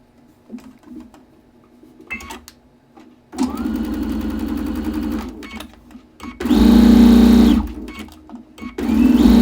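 A sewing machine stitching quilt fabric runs in three bursts, a steady whirring hum with a fast mechanical chatter, loud and close, separated by short pauses and clicks.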